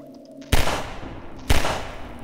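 Two loud, separate gunshots in Half-Life 2, each a sharp crack with a ringing decay, about a second apart over quiet game ambience, with no talk.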